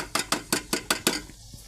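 Rhythmic metallic clanks of a utensil striking a cooking pot while tomatoes and onions are being cooked at home, six sharp evenly spaced knocks close by, then a quieter scrape.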